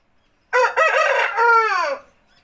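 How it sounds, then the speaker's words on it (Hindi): An Aseel breeding male rooster crows once, close and loud, in a long, drawn-out cock-a-doodle-doo that fades at the end, with near silence before and after. "कैसा साउंड क्वालिटी आता है हासिल मुर्गा का, कैसे उसका साउंड आता है"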